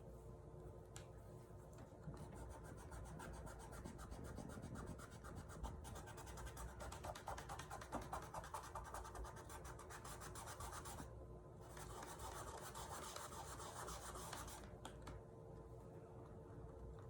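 Steady close rasping rub of a cloth or pad spreading liquid glass across a painted fall sign, worked from the center outward, continuous for most of the stretch with one brief pause.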